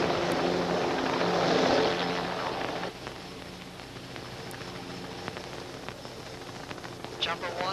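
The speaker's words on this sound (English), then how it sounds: "Helicopter is clear." A film scene of a helicopter flying, its steady rotor roar loud at first and then easing to a lower, constant drone, with a few faint knocks and noises over it.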